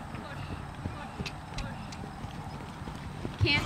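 Horses canter during a riding lesson, hooves clip-clopping in a quick, steady rhythm at moderate distance, with faint background noise.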